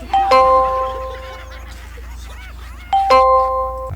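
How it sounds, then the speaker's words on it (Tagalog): A doorbell chimes its two-tone ding-dong, then rings again about three seconds later, over a low steady hum in the room. "May nagdo-doorbell, no?"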